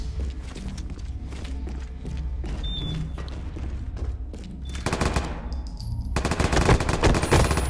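Gunfire in the first-person shooter Ballistic Overkill, playing the Berserker shotgun class: rapid repeated blasts and clattering shots over game ambience, growing denser and louder toward the end.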